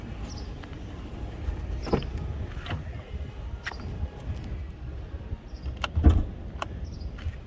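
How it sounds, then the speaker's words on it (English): Hood of a Lexus IS 350F Sport being released and lifted: scattered mechanical clicks and latch pops, then a firmer clunk near the end, close by over a low ambient rumble. "let's pop the hood"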